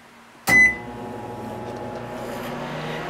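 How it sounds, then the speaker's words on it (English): A microwave oven starts up with a short loud beep-like onset, then runs with a steady, even hum while heating one egg in a paper bowl, with no talking. "we microwave it for 1 minute"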